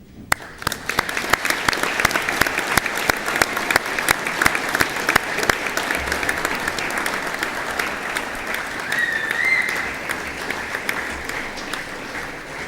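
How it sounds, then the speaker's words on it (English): An audience at a 2010 Swinburne graduation ceremony applauds in a long, dense, sustained round of clapping that keeps an even loudness throughout. "join me in a round of applause to say thank you to those who have helped you achieve your award"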